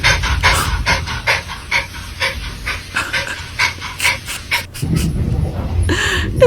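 A dog pants hard and rapidly, out of breath, in short rhythmic bursts close by, with occasional faint voices in the background.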